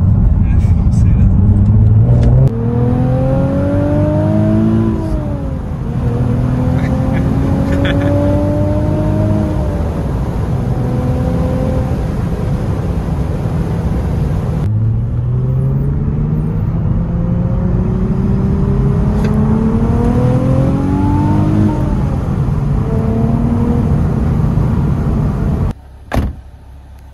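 Nissan 370Z Nismo accelerating hard from the cabin, a loud sustained engine roar climbing through rising pitch sweeps with several gear changes, steady and dense throughout before cutting off abruptly near the end.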